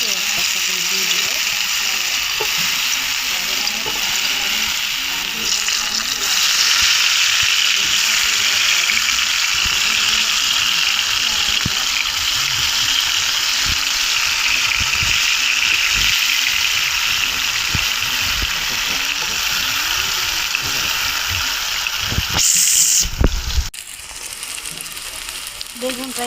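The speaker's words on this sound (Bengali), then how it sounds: "তেলটা গরম হয়ে গেছে। আমি বেগুনটা মাখিয়ে রেখেছি একটা করে দিয়ে দিব।" Spiced eggplant slices fry in hot oil, giving a steady, close sizzling hiss that holds for the whole stretch, with a few clatters of handling near the end and a voice talking over it.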